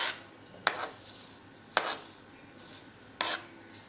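Spoon scraping and stirring chopped chillies, onion and coriander in a bowl for sweet corn cutlets, three quiet separate scraping strokes with short pauses between them.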